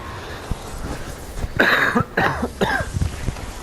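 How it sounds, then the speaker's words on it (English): A man recovering from an illness coughs several times in a row, sharp, harsh bursts close to the mic with a bit of throat clearing, and no talk over them. "It's just randomly I cough every once in a while."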